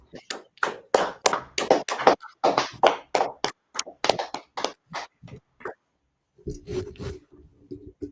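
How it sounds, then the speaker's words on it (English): A group of people clapping at a gathering of the ISUPK in Harlem, New York, producing a fast run of sharp, fairly close claps that fade to silence, followed by a brief low rumble. "All right, clap it up. Clap it up."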